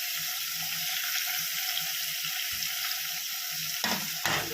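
Tomatoes sautéing with salt in a pan make a steady close sizzle under a low hum, with a couple of louder stirring scrapes near the end and no talking.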